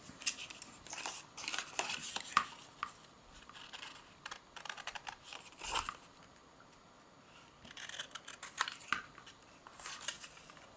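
Scissors snip through paper to cut out pockets for a cottage-themed interactive page, giving repeated short crisp cuts in irregular bursts with pauses between, close and fairly quiet, with no voices.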